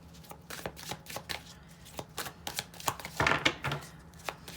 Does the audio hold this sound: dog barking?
no